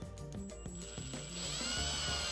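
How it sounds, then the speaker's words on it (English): A rod end is threaded onto a shaft with a wrench during a rear differential build for an Element RC Gatekeeper. A quick series of short clicking and grinding turns repeats, then a steadier whirring hiss follows, close and quiet. "thread it in, go slow, you don't need to go really fast here because they do get quite hot"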